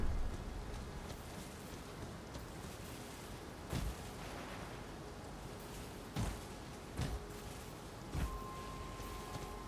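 Steady rain falls over an atmospheric outdoor area in the video game Elden Ring, a constant soft hiss broken by several brief, heavier thuds spaced a few seconds apart.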